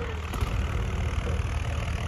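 Tractor engine idling nearby, a steady low rumbling drone with faint knocking pulses and no talk.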